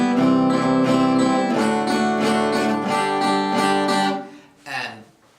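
Stiff, choppy acoustic guitar strumming of a song's chords, steady evenly accented strokes played loud and close, stopping with a final short strum.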